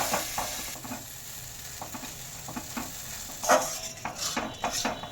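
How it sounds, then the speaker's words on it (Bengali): Mixed vegetables and paneer stir-fried in a pan with a splash of water, a soft steady sizzle under repeated scraping strokes of a spatula, growing a little louder toward the end, with no voices. "এবার আমি ভালো করে কষিয়ে নেব।"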